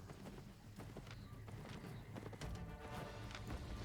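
A horse gallops in the Albion Online video game, with quick, irregular clip-clop hoof beats over a busy game soundscape, fairly faint and heard alone.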